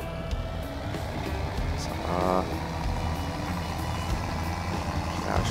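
A vehicle drives away in the farming game Landwirtschafts-Simulator 17, its engine a steady low rumble throughout with a brief beeping burst midway, while a voice speaks over it.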